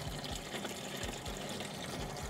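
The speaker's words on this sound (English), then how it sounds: "begin filling the bottom basin" Water runs into the bottom basin of a vapor honing machine, a faint steady trickle and splash with soft low thumps recurring at a regular rhythm underneath, heard alone without talk.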